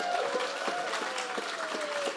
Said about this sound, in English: Let's give these candidates a big round of applause.